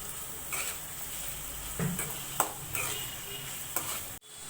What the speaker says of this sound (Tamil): இப்போ தக்காளி போடலாம்.